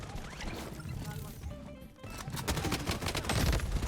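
Automatic gunfire rattles in the shooter game Blood Strike, fired from the hip. Bursts of shots come in rapid succession, with a brief gap near the middle, then louder, denser fire.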